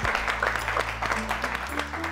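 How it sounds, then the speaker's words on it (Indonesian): Applause from a studio audience for a guest, Mr Andy, on a Malaysian entertainment show, a steady wash of clapping lasting a couple of seconds with a low background hum and tones underneath. "Apa kata kita berikan tepukan sekali lagi kepada Encik Andy?"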